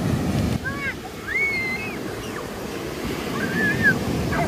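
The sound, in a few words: sea waves washing ashore at R.K Beach, Vizag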